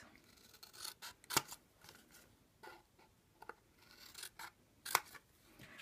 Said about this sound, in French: il vous suffit ici de découper selon donc les traits de pli que l'on a fait précédemment